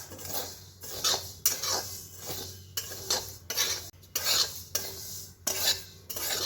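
Broken wheat (dalia) being stirred and roasted in a pan, a utensil scraping and clinking against the metal in repeated strokes with a faint dry rustle between them, no voices.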